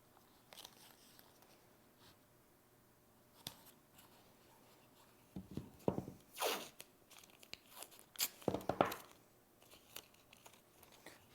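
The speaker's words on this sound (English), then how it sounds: "Now I can bridge across the top with another piece of tape." Masking tape torn from a roll and pressed across glued wood seams, quiet at first with a few taps, then several loud crackling rips and crinkles of tape in the second half.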